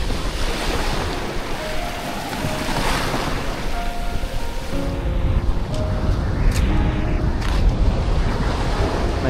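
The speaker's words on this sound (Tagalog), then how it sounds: "Mabato yung dagat." Sea surf washes onto a rocky beach at a river-and-beach campsite, a continuous roar of breaking water with gusty wind noise on the microphone, swelling louder in the second half.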